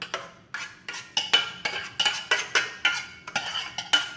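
A spoon or spatula stirs and scrapes a soup mixture with tomatoes in a large bowl for a linguini chicken casserole, giving about a dozen regular, close clinks and scrapes with no talking.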